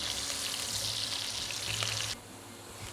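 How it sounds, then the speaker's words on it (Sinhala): Garlic and onions fry in hot oil until golden, a close, steady sizzle that cuts off abruptly near the end, leaving a quieter hiss. "සුදු ලූණු ලූණු දෙකම එකතු කරගමු. මේ දෙක හොඳට රන්වන් පාට වෙනකම් මේ තෙල් එකේ බැදගමු."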